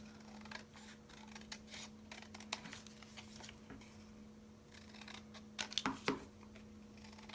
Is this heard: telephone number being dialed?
no